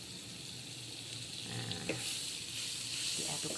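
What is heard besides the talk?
butter sizzling in a wok while frying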